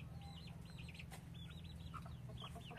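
Hens clucking softly in a backyard garden, a few short repeated clucks and calls at moderate distance over a low background hum, with no talking.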